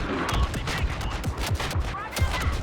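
Blaster fire in a Star Wars Battlefront multiplayer match, a steady stream of rapid shots with repeated sharp bursts over a dense battle din.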